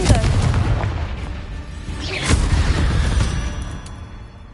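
A Confringo fire spell in Hogwarts Legacy bursts as a loud booming blast under dense game noise, with a sharp crack near the middle and a rumbling tail.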